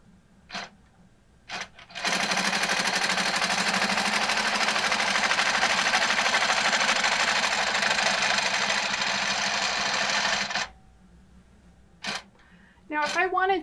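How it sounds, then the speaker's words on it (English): HQ longarm quilting machine stitching a circle, a steady, close mechanical hum with a fast stitching pulse running for about nine seconds, framed by a few short clicks and a brief voice near the end. "I'm going to hit the run button and proceed and watch it stitch the outside circle"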